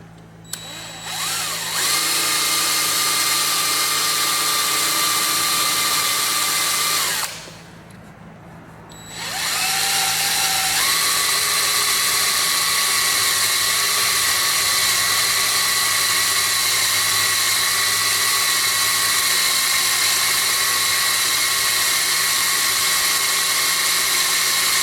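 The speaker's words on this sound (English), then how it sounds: "I'm going to start getting a hole drilled anyway." A drill bores a hole in a still-warm steel heavy-duty trailer hitch built for a zero-turn mower, with a loud steady high whine that stops briefly and then runs on.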